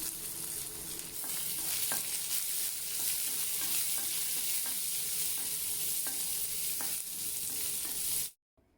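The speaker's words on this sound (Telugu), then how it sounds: "పోపు కాస్త వేగిన తర్వాత మనము కట్ చేసి పెట్టుకున్న ఆనియన్ వేసేస్తున్నాము" Sliced onion sizzling in hot oil tempered with dried red chilli pieces, a steady loud frying hiss with occasional scrapes of stirring throughout, ending abruptly.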